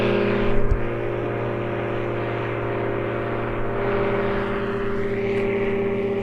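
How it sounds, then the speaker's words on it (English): An ultralight aircraft flying overhead at a busy airfield, a steady loud engine drone that holds throughout, with a brief bump near the start. "Nice ultralight going over our heads now."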